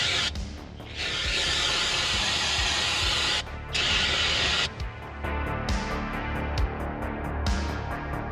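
Carb cleaner is sprayed onto an engine mating surface in loud, close hissing bursts, some long and some short, separated by brief pauses.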